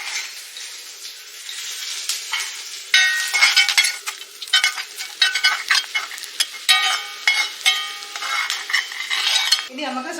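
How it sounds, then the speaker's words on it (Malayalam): Coconut sizzles while roasting in a pan for Kottayam beef fry; a metal spoon scrapes and clinks against the pan in quick, uneven strokes, close up and without talk. "തേങ്ങ വറുത്ത് പോരുവാണ്."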